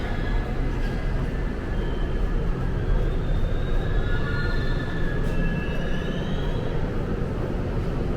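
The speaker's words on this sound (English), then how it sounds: "Here we are, 57th Street Q train." A New York subway Q train rumbles in the 57th Street station, a continuous loud low roar with faint high squeals of wheels and brakes drifting over it.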